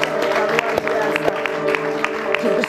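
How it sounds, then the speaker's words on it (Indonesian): A television comedy talk show audience applauds in a studio, a brief steady burst of many hands clapping over an ongoing musical tone, loud and close. "Tepuk tangan buat Ujik lagi"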